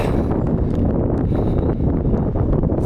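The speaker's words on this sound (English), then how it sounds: "It is windy." Steady, loud wind buffeting the microphone at night while carp fishing from a boat, a constant low rumble with gusty rustling throughout and no talking.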